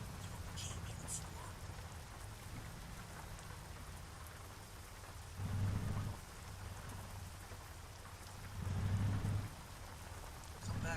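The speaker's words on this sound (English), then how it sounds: "Come back from the menu and it's pouring rain." Steady, heavy rain pours down in the American Truck Simulator video game, with low rolls of thunder swelling twice through the downpour; the whole scene sits at a fairly quiet level with no talking.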